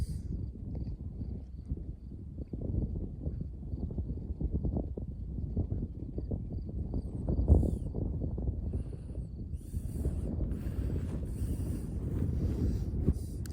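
Wind blowing along a mountain road, a steady low rumbling buffet against the microphone throughout, with brief gusty swells and no talking.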